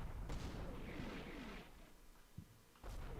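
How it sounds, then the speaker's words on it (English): Light mortar fire in the Combat Mission: Shock Force 2 video game: a few loud booming impacts with a rumbling tail, the last blast coming close near the end. "All right, so light enemy mortars by the looks of it."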